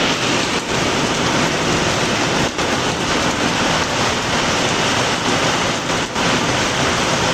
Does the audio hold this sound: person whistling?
no